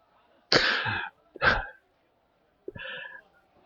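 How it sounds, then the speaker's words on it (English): Three harsh, explosive coughs burst out one after another with short gaps, the last one shorter and rougher, close up and loud with no talking. "before pausing to cough explosively."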